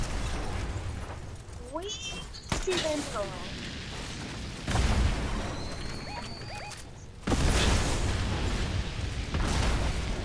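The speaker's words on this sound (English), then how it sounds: "Explosion!" Explosions in a PC video game: two heavy booming blasts land several seconds apart, each followed by sustained rumbling noise, loud and close under excited voices talking over the action.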